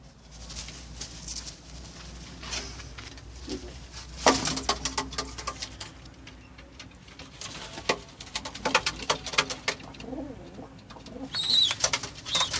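Homing pigeons in a loft coo softly and repeatedly nearby, with patter, light rustling and occasional wing movement around them.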